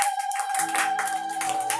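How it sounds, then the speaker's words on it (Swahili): A church congregation claps in praise after prayers, a fairly steady patter of hands sounding moderately loud, with a sustained tone running beneath. "Shangilia Bwana Yesu kwa makofi kwa ajili ya maombi."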